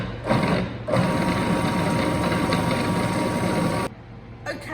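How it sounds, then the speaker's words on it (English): Food processor pulsing to chop avocado and other mousse ingredients, a loud close motor whir in bursts with short stops between, alone without speech. "So we're going to pop that into the food processor. I'm going to chop them up a little bit first by pulsing it."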